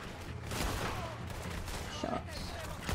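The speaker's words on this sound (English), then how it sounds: "Shots." Gunfire in the Western video game Red Dead Redemption 2, a dense burst of shots over loud, steady ambient game noise with a voice speaking underneath.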